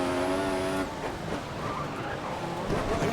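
Formula 1 race car in the F1 2014 video game at Melbourne, engine at full power, a high revving whine that drops sharply as the car shifts, with tire squeal and skidding texture following.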